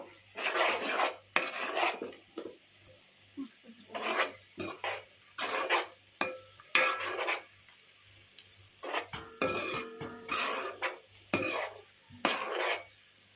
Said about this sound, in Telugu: కొంచెం పసుపు కూడా వేసుకొని కలుపుకుందాము